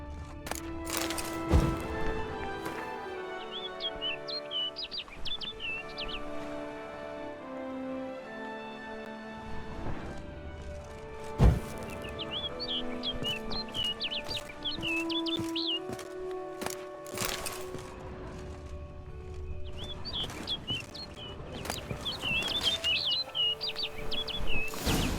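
Bird chirping in The Witcher 3: Blood and Wine, bright high twittering phrases repeating over a steady musical score with occasional thuds, moderately near and clear above the background.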